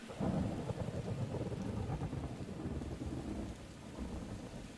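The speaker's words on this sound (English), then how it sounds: "That's some heavy rain." Heavy rain pours steadily while low thunder rumbles underneath in a video game, a dense continuous storm with no voices.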